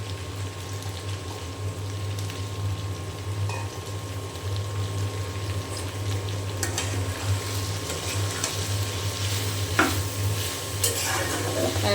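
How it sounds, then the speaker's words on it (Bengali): Okra sizzles and fries in a pan with onion and green chili, a steady, close crackling hiss with occasional stirring, over a low constant hum. "ঢেঁড়স ভাজি করব।"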